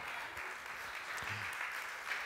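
Dense crowd applause from a church congregation during a Sunday sermon, continuous but sounding fairly distant and quiet.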